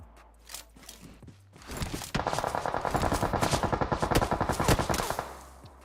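Rapid automatic gunfire in PUBG Mobile coming from behind the player, a loud sustained burst of evenly spaced shots after a quieter opening with a few faint sounds.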